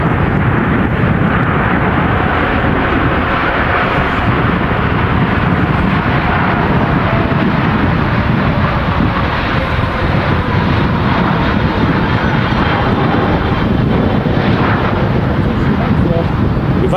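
Boeing 777-300ER airliner at very windy Manchester Airport, a steady loud broadband engine roar with heavy wind rumble running throughout, with talk faintly mixed in.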